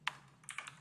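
A few computer keyboard keys struck in quick succession while typing terminal commands: one sharp clack followed by a short cluster of lighter taps, close and alone.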